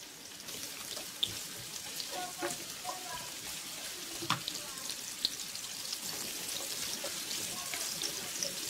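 Cubes of pumpkin stir-fry in hot oil in a wok, a soft continuous sizzle with scattered light pops and occasional utensil clicks.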